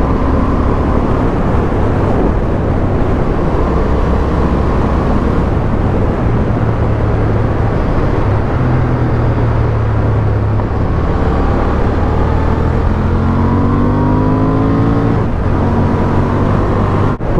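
Honda Hornet 750 motorcycle ridden on a commute, a steady loud engine drone with wind rush throughout, the engine note rising and falling with gear changes near the end.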